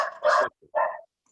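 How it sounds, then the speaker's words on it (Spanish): A small dog barks twice in quick succession, close and fairly loud, over an otherwise quiet background during an online meeting. "Hay un perrito, no sé de quién,"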